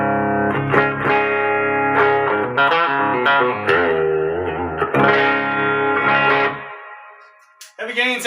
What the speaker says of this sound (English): Heavy gain sounds like this.